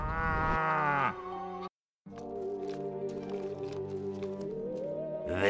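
A cow moos in the video game Destroy All Humans!, one long, loud drawn-out low call that stands alone, followed by a brief gap and then steady game sound with sharp clicks.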